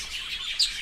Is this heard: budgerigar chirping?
yes